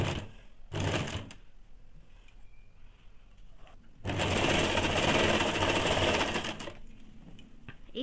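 A sewing machine runs double stitching along both legs of a semi salwar, sounding in two bursts: a short one near the start and a longer steady whir in the middle, with quieter pauses between.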